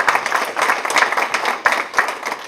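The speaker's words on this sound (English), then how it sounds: "I know another round of applause for Tia here." An audience at a community action forum claps, a close, lively patter of many hands with a few sharper individual claps standing out.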